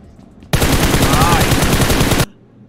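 A long burst of rapid automatic gunfire in a video game, loud and continuous for nearly two seconds, starting and stopping abruptly between quieter stretches.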